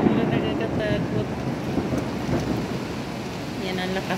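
Heavy morning downpour in Beirut with thunder, a steady dense roar of rain hitting surfaces, low rumbles rolling underneath, and gusts of wind throughout.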